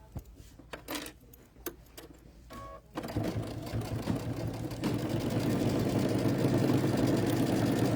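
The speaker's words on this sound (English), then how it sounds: "She's actually using it to hold down the binding as she's sewing, which is a great idea." A sewing machine runs steadily while stitching binding onto a quilt, a continuous mechanical whir that starts after a few seconds of short bursts and grows louder and denser toward the end.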